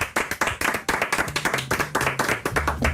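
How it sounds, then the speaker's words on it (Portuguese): Clapping in a Portuguese radio studio, a small group giving quick rhythmic claps close to the microphone, sharp and regular, with a brief faint tone underneath. "É sério que aplaudimos isto?"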